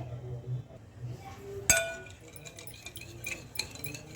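A spoon mixes milk, sugar and a spoonful of oil in a bowl for naan dough, giving light clinks and taps, with one sharp metallic clink partway through and softer scrapes after it.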